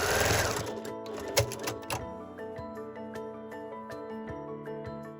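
A sewing machine stitches a fabric tree trunk onto the bottom edge of a handmade Christmas tree string bag, a fast, even mechanical clatter that starts with some handling noise and then runs steadily up close.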